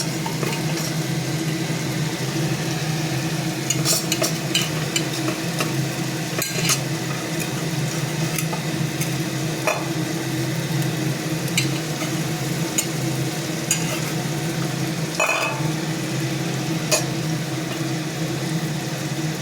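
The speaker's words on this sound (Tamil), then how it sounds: "நல்லா எண்ணெய் எல்லா மாங்காயிலையும் படுற மாதிரி நல்லா கிளறி விடணும்" Mango pickle pieces fry in oil with mustard seeds while being stirred, giving a continuous close sizzle and crackle with scattered scraping clicks.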